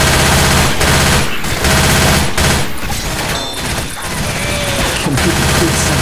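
Dense, loud automatic gunfire from the cooperative shooter game Left 4 Dead 2 rattles almost continuously in rapid bursts, with only brief gaps between volleys.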